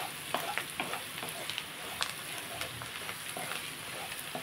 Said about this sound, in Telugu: బాగా కలుపుకుందాం.